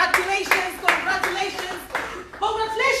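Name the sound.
audience clapping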